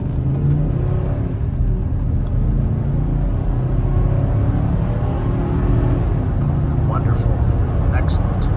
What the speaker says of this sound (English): I'm gonna put it just about to the floor so you can see the acceleration.